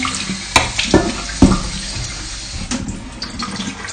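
Water runs and splashes as it drains from salted kimchi cabbage, with a few sharp clattering knocks near the start followed by a steady running flow, close and fairly loud with no voices.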